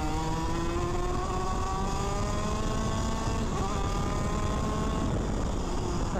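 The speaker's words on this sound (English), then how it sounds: "You'll hear the engine just kick up." A small shifter kart engine winds up steadily, its whine climbing in pitch over several seconds, with a brief dip midway as it shifts gears.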